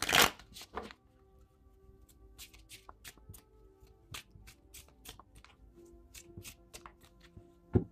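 Synchronicity Oracle cards shuffled by hand, a quiet, close series of crisp riffles and light taps in an irregular rhythm, with a sharper flutter at the start and end.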